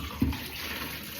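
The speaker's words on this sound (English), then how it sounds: "let me run the cold water off. And we can fill the washing bowl up." Cold water runs from a tap into a washing bowl, a soft steady trickle with a brief splash near the start, heard close and fairly quiet.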